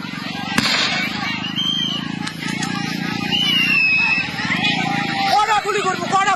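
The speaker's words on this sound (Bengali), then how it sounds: "গুলি চালনা কৰি আছে, ফায়াৰিং কৰি আছে, ফাঁকা গুলি মাৰি আছে" Police fire blank rounds during a violent clash, with a couple of sharp, isolated bangs ringing out over a loud, agitated crowd of shouting voices.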